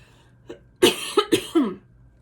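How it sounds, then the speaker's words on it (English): A person coughs several times in quick succession, close and fairly loud, after a brief throat sound in a quiet room. "going to cough, so please hold for a second."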